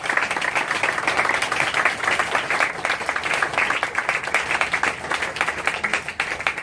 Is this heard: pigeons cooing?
no